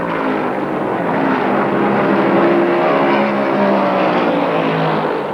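A 1960s–70s stock car race with the leading cars running fast around the track, giving a loud, continuous engine roar that holds steady throughout with no talking.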